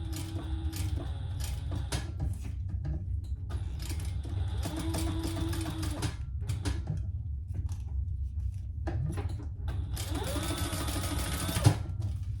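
Sewing machine stitching a 1/8 inch row along the closed side of a leather waist pack, running in short bursts of steady rapid whirring with brief pauses between them.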